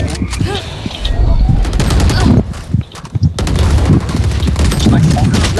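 Rapid gunfire from a new weapon in the tactical shooter Valorant, with dense bursts running almost continuously through the clip, one brief lull near the middle, and game effects layered over the shots.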